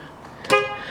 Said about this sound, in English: Honk does work.